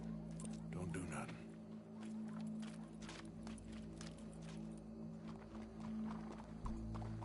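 A horse in the Western video game Red Dead Redemption 2, with hoof clopping over a steady low hum of in-game ambience and music, and a voice briefly present.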